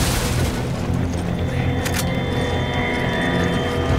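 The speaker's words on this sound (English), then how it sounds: "Something exploded on me." A dense, continuous boom and rumble from an explosion in Resident Evil 5, with broad low-end roar and scattered crackle throughout, loud and close with no voices over it.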